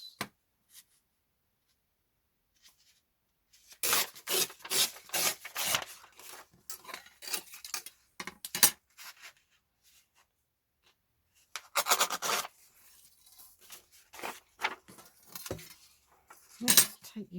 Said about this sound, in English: Sorry about the noise. The ruler on the glass.